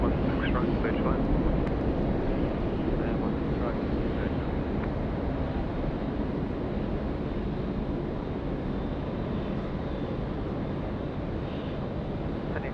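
An aircraft landing at Sydney Airport at night, a loud continuous engine roar with wind rumble that holds steady throughout, with radio voices heard over it.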